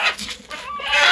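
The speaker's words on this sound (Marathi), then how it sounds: "आता हे बघू शकता तुम्ही, हे कोंबडी कशी उठून निघाली" A desi country hen clucks briefly and close by as she rises from her nest of eggs and walks off, with no talking.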